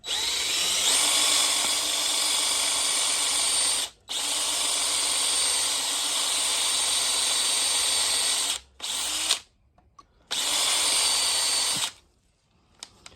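A cheap Tractor Supply drill bit bores into a boat's LS 5.3 engine head with a steady, loud, high whine, halting briefly several times and then resuming before stopping near the end.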